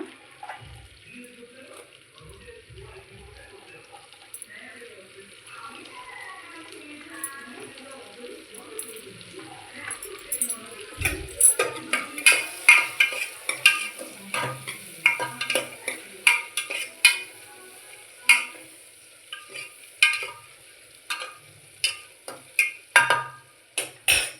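Chopped onions frying in hot oil in a home kitchen pan, a soft sizzle with scraping and stirring that grows busier and clattery midway, while a voice talks quietly.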